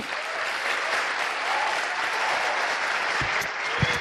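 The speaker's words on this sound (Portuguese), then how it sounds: "Salva de palmas." Audience applause fills a talk venue after a speech, a steady dense wash of clapping held throughout at moderate loudness, with no voices.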